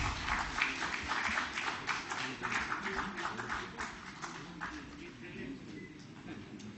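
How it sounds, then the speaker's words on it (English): An audience at a safety convention claps for award winners, with dense applause fading gradually over several seconds, fairly faint and without talking over it. "A round of applause for the winners, please."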